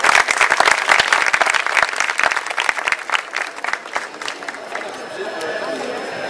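An indoor audience claps loudly and densely, the applause fading gradually into softer scattered claps and room murmur.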